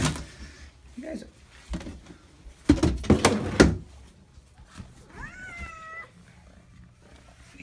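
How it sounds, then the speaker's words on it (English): Two or more house cats meow nearby, with a long rising and wavering meow standing out near the end, mixed with thumps and rustling and a person speaking. "Okay, that's one cat."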